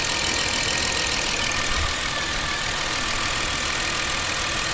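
A 2009 Chevy Equinox engine idles steadily after an engine coolant temperature sensor replacement, a continuous close mechanical hum and whir at even loudness with no talk.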